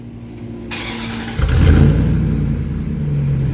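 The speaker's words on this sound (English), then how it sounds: "Now she has a actual V8 sounding exhaust." A starter whirs briefly, then a Dodge Dakota pickup's V8 engine with a new exhaust catches and settles into a loud, rumbling idle close by.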